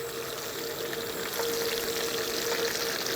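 Middle Eastern kebab fries in a pan on a gas stove, giving a continuous close hiss and sizzle with a faint steady tone through it and no talk.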